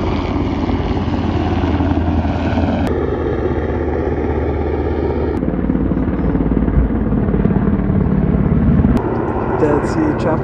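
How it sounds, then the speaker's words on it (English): Loud, continuous helicopter rotor and engine drone close overhead at the Dead Sea, Jordan, with abrupt shifts in tone partway through. "Dead Sea chopper."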